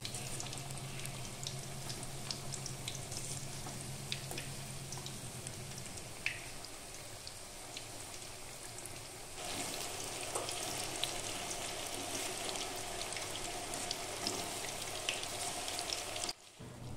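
Eggplant fritters stuffed with spiced potato (beguni) deep frying in oil in a wok, a steady crackling sizzle that runs without a break for the whole stretch, with no voices over it.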